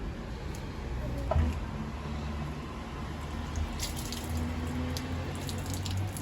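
Fresh greens are rinsed by hand under a running kitchen tap, with a steady close hiss of flowing water and occasional splashes and drips throughout.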